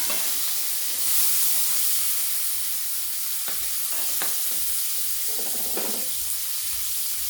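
Coconut pieces cut into small bits drop into a pan of mixed vegetables frying for a Bengali mixed-vegetable dish, bringing a steady loud sizzle with a few scraping stirs and clinks partway through.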